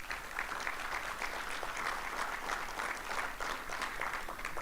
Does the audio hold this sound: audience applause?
yes